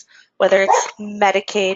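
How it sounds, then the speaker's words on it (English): A pet dog at home barks and yips several times in quick bursts, loud and close, overlapping someone speaking during a recorded training session. "you can hear my dog barking in the background."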